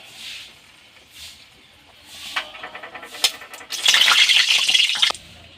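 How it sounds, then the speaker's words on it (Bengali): Dried chili hits hot mustard oil in a pan, soft stirring sounds giving way to a close, crackling sizzle with sharp pops that grows louder for a second or so before cutting off. "এবার আমি তেলের মধ্যে একটু শুকনো লঙ্কা দিয়ে দিলাম।"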